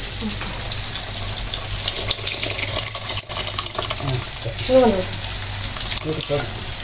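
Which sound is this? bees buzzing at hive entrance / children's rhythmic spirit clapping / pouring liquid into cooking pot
pouring liquid into cooking pot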